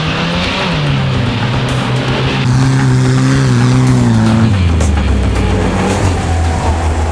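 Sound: VAZ 2101 and Audi Q7 cars in an off-road drag race

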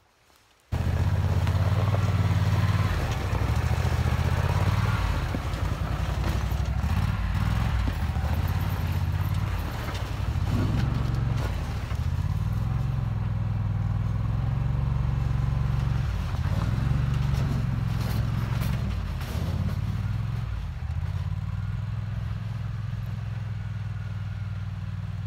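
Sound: buggy pulling a cart across a snowy field

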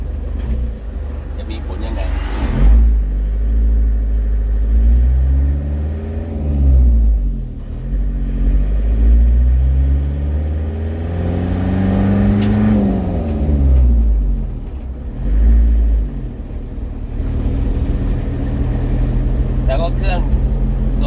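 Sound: car being driven after electric power steering swap

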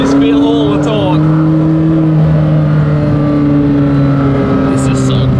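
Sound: McLaren Senna GTR race car driving

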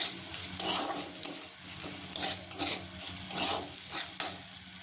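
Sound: stirring mung dal frying in pan

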